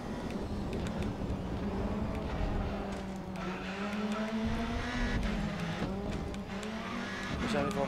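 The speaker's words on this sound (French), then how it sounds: "la voiture elle est à fond, elle en peut plus là." Touring car engine held at full throttle in the Grid Autosport racing game, a loud continuous high-revving drone with slight pitch shifts and faint tyre noise, steady throughout.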